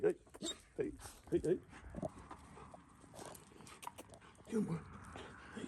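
Stray dog at a residential home making short whimpers and pants close by, broken up by a man repeatedly calling out and coaxing it.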